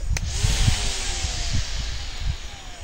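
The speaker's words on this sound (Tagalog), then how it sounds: "Bali maglilinis ako ngayon gamit itong aking mini grass cutter." A small handheld mini grass cutter runs steadily outdoors while clearing plants, with a loud continuous whining engine drone and brief low thumps.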